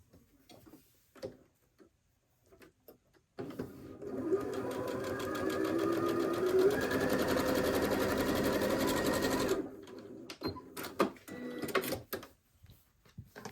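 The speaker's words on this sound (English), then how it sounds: "Sew that one." A sewing machine stitches a MODA Blockheads quilt block in one continuous run of rapid, even mechanical ticking that lasts several seconds, close by, with handling clicks and taps before and after.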